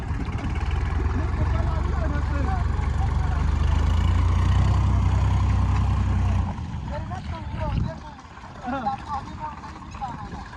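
A farm tractor engine runs close by with a steady, heavy low rumble for about six seconds, then cuts off, leaving quieter background sounds and some voices.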